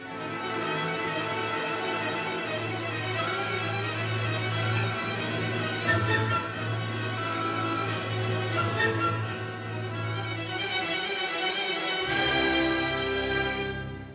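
Rapid repeated string notes from an orchestra playing Sibelius buzz like an insect swarm in a dense, busy texture over a held low bass, fairly loud throughout, no voices.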